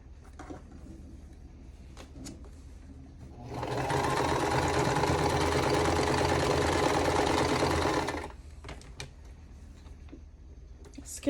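A sewing machine stitches a 2.5 inch quilt square in one steady, fairly loud run of about four and a half seconds, with quiet handling clicks before and after.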